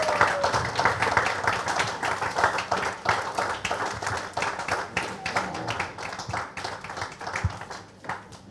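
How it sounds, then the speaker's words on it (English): Guests at a book launch event clap for the authors of a true-crime book about Bengaluru's underworld, with irregular, fairly close claps that thin out toward the end, mixed with some background murmuring. "can we have an encouraging round of applause for them, ladies and gentlemen?"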